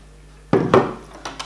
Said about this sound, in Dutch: Tijd om de tweede helft van de pizza te snijden.